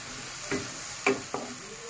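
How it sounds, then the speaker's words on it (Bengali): Whole green chillies frying in hot oil in a pan with mustard and onion paste, a steady soft sizzle broken by a few brief stirring scrapes, close and moderately loud, with no talking. "আর 3টে গোটা কাঁচা লঙ্কা এর মধ্যে দিয়ে দেবো। এটাকে একটুখানি জাস্ট ফ্রাই করে"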